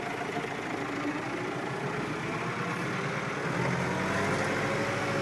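A Massey Ferguson 390 tractor engine idles steadily, a continuous low diesel rumble close by with no talk and only slight variation in level throughout.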